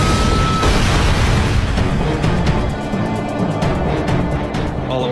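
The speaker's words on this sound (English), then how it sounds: "Suddenly, a massive explosion shatters the evening's calm." A massive mid-air explosion at evening, a loud, dense roar of blast and rumble that fills the whole stretch, with crackling bursts continuing as it slowly settles.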